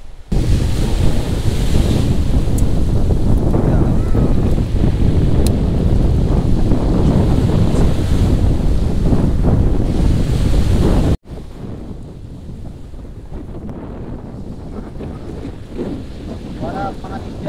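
Sea waves splash and surge on a beach beside a campsite, a loud continuous wash with heavy wind buffeting the microphone, then dropping to a quieter steady surf for the last few seconds.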